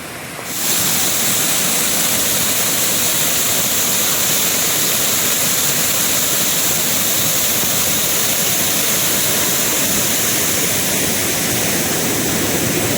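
Floodwater from a night of torrential rain rushes loudly and continuously, a dense roaring flow close by that never lets up.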